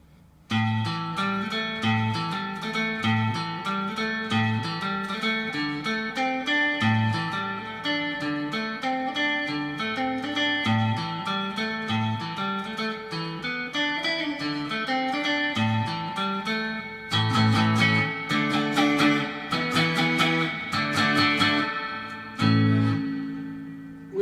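An electric guitar plays through a Surfybear Reverb Classic spring reverb unit, giving a darker tone. Picked notes and chords ring out with a lush, lingering tail, and no voices are heard.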